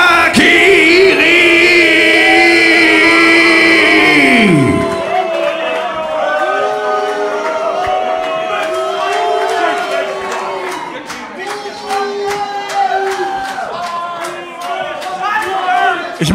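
An audience at a wrestling event in Leipzig, loud crowd noise that gives way to steady cheering and rhythmic clapping beneath an announcer's amplified voice.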